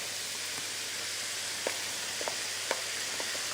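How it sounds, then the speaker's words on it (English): Cooked pasta tossed into a pan of frying salmon, a soft, even hiss of sizzling with a few faint clicks and taps of utensils against the pan. "So the fish is almost cooked. I'll just add the cooked pasta in."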